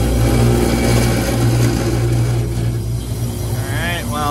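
Air conditioner compressor forced on by manually pushing in the contactor, a loud steady low hum and drone with harsh rough tone, continuous throughout at close range.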